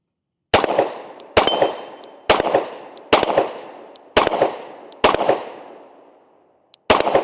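Seven loud, sharp gunshots from a Glock 20 Gen 5 10mm pistol firing MagTech ammunition at a range, spaced roughly a second apart with a longer gap before the last, each with a short ringing decay.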